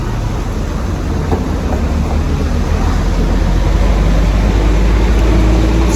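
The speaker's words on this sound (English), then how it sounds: "there's 5 trucks like this coming by" Loud, continuous roar of heavy trucks rushing past nearby on a Colombian road, a dense rumble with no pauses or voices.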